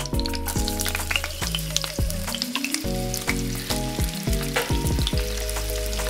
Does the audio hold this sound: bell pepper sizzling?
yes